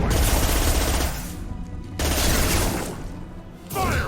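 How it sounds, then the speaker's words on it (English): Sustained automatic gunfire from a machine gun in the video game Mass Effect 2, dense rapid bursts filling most of the moment with a brief drop-off in the middle, loud and continuous. "This machine gun sucks, bro."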